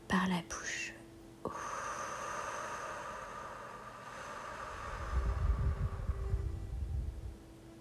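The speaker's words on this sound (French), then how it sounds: "Expire par la bouche." During a guided meditation, a long breath is let out through the mouth, a breathy whoosh lasting several seconds that swells toward the end, close to the microphone with faint background hiss.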